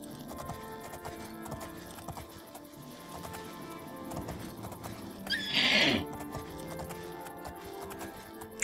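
A horse in The Elder Scrolls IV: Oblivion clops along with steady hoofbeats under game music, then lets out one loud, close neigh partway through before the hooves continue.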